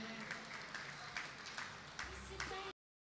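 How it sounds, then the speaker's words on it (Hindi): Audience applause at a community gathering in Kuwait welcoming a guest onto the stage, a faint, brief patter of clapping across a few seconds. "जनाब मोहम्मद आरिफ भट्ट साहब बहुत सारी तालियों में तशरीफ़ लाते हैं।"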